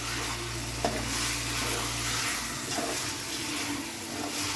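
Chicken frying in a pan for a home-style curry, a steady sizzle with scraping stir strokes, a low rumbling hum fading partway through.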